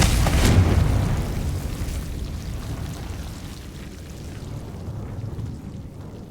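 A loud blasting-spell explosion from the Hogwarts Legacy video game bursts at the start with a heavy low boom, then rumbles and decays over several seconds with no speech.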